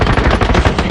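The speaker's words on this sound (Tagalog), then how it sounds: "Lakas ng baril niya eh." Loud, close enemy automatic gunfire in a battle royale shooter game rattles in a fast, steady burst of repeated shots filling the whole second.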